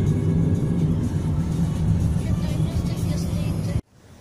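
Cars rolling into a parking lot in a new park in Krasnodar, a steady low engine rumble close by that cuts off abruptly near the end.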